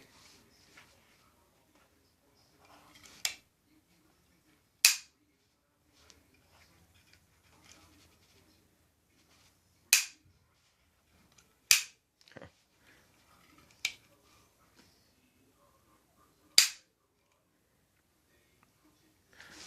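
A homemade gun with a floating firing pin fires about seven sharp, isolated cracks at irregular intervals, each one abrupt and short, with near silence between them.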